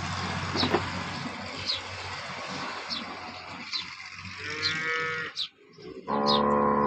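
A cow moos at a Banaswadi-area village cattle sale near Tharad, a harmonic low call near the end, amid steady farmyard background noise.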